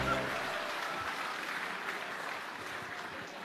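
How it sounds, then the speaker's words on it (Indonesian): An audience at a party congress applauds in a sustained, even round of clapping that slowly tapers, with a speaker's voice briefly heard at the start. "Tepuk tangan untuk kita semua."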